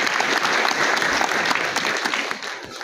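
An audience gives loud, dense applause for the first president at a society meeting, a sustained wash of many hands clapping at once that tapers off slightly toward the end.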